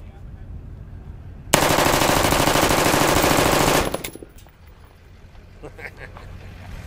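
Full-auto bursts from a rifle fitted with a Ballistic Advantage barrel at a shooting range, one loud continuous burst of about two seconds, then quieter background noise with faint distant shots and voices.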